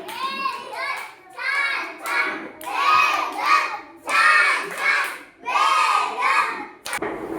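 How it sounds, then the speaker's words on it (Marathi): Children in a school classroom clap loudly together in several bursts of applause, with a few young voices mixed in among the hands. "जोरात टाळ्या."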